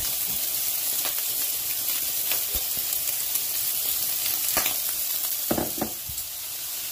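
Garlic, celery and carrot frying in a pan, a continuous close sizzle with a few sharp crackles and stir clicks, no talk.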